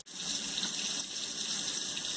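Cold tap water runs steadily from a kitchen faucet fed through a GE GX1S01R under-sink water filter, a close, continuous hissing stream that starts abruptly and flows at a slightly reduced rate.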